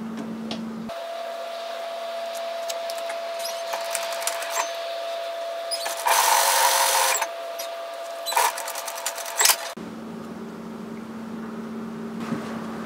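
A sewing machine stitches robe pieces together in one steady run of mechanical whirring, close and clear, with brief louder bursts and pauses in between.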